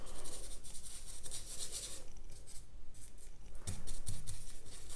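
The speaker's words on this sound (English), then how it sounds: "Just mushing it on the paper, watercolor paper." A paintbrush scrubs watercolor paint onto watercolor paper in loose, rapid strokes, producing steady close rasping and swishing bursts with short pauses.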